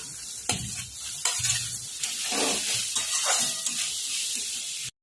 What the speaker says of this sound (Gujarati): હવે કેપ્સિકમ ને ડુંગળી આપણે થોડી શેકી લઈશું।